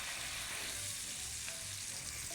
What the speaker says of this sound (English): All right, first patty going down.